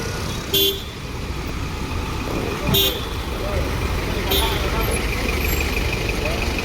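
Road traffic rumbles past a roadside bus stop in Kerala, with short car and bus horn toots at intervals over a continuous low engine drone; no one speaks.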